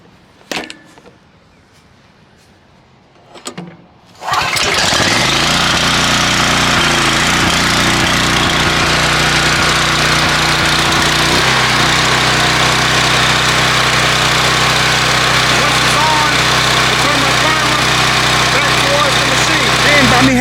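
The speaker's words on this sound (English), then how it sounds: "All I have to do is just pull the string for it to crank up." A pressure washer's small engine gets a few faint clicks and a quick pull-cord tug, then roars to life and runs steadily, loud and close, settling into a lower, even drone partway through, with a voice heard under it.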